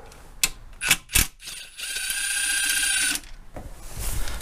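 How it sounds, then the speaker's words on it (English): Ratchet wrench undoing oil pickup bolts on a Ford Fiesta ST, a few quick clicking bursts followed by a long, steady buzzing ratchet whir, close up with no talking. "you're going to take them two bolts out. So the first thing we'll do, undo them,"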